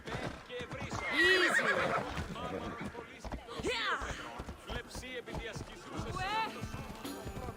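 Horse whinnies and clip-clopping hooves in the video game Assassin's Creed Odyssey, with a long neigh early on and shorter calls later over steady hoofbeats, mixed with someone talking.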